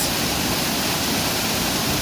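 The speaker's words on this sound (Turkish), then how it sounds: "Suların gümbür gümbür aktığını, köpükleriyle beraber aktığını" Canikdere Waterfall in Tonya, Trabzon, roars with loud, dense rushing water, an unbroken wall of noise close by.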